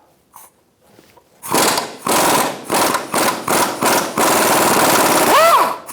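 Loud bursts of an air impact wrench on a 17mm socket remove an engine mount bolt from a 2004-2009 Mazda 3, starting after a quiet lead-in, in several rapid hammering runs and ending in a long sustained burst.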